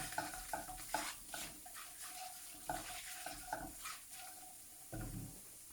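Spices and pepper powder are stirred in a pan for a Kerala duck roast, with light sizzling under repeated scraping and clinking of a spoon against metal, close and fairly soft, no talking.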